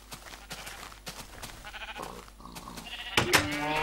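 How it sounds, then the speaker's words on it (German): Sheep in the video game Minecraft, giving a short wavering bleat near the end that rises clearly above a busy backdrop of game clicks and noise. "Guck, rotes Schaf."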